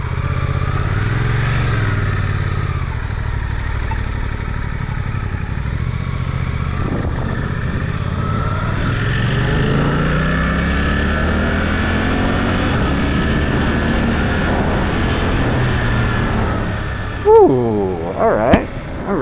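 A Suzuki GSX 8R motorcycle rides and accelerates, engine droning steadily with rising and falling pitch as it shifts through gears, wind noise around it, and a brief sharp burst near the end.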